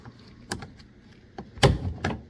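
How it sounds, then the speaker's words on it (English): Prying a rod up inside the door panel of a 2002–2006 Honda CR-V during window regulator work: a few sharp plastic clicks and snaps, the loudest near the end, close up with no talk. "pick your rod up or pry your rod up"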